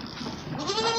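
Goats bleat in repeated wavering calls, close and fairly loud, while being fed a homemade herbal drink on a cold day as a remedy for cough, cold and chest congestion.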